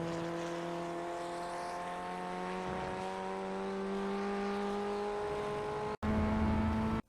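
Simulated Ray FF 1600 open-wheel race car at Laguna Seca in iRacing accelerates steadily, its engine note climbing smoothly through the gear, then dropping briefly at an upshift before pulling again, continuous and without speech.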